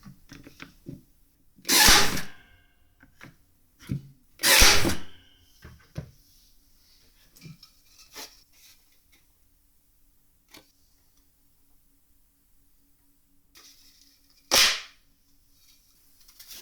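A Parkside PAT 4 D6 4V cordless stapler fires staples into plastic, giving a few sharp, isolated snapping clacks separated by long quiet gaps with faint handling noise between.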